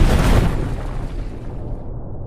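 Dynamite detonates on an island near a lighthouse tower in the film Cold Skin (2017). A loud, deep, broadband boom bursts at once, then rumbles and fades over about two seconds, with no speech.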